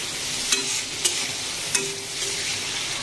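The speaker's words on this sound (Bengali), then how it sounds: "চিংড়িটা ভাজা হয়ে গেছে" River shrimp fry in hot oil with salt and turmeric, a close, steady bright sizzle broken by three sharp spatula scrapes at regular intervals, with no voices over it.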